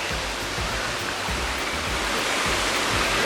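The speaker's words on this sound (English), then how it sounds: "And wow, an amazing waterfall." A waterfall at Lenggong, Perak, Malaysia gives a steady, dense rushing roar of falling water, loud and unbroken throughout, with no voices.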